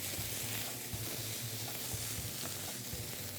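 Steak with pepper browning in a hot pan, a constant dense sizzle at moderate level with faint intermittent low knocks, heard alone.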